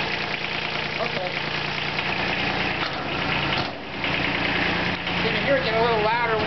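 A car engine idles with a steady, even rumble, swelling slightly louder near the end, while faint voices are present in the background.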